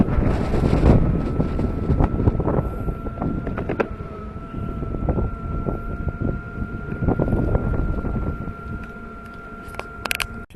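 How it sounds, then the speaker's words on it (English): Strong wind blowing outdoors, buffeting the microphone in loud, gusty roaring rumbles with a faint steady hum underneath, continuous throughout. "the wind's blowing pretty hard"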